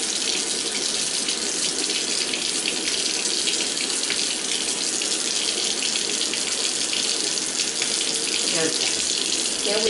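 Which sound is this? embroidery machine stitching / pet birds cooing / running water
running water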